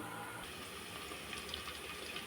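Water running and splashing steadily as it is poured over half a kilo of rice for mutton biryani, a continuous close gushing sound with no talk.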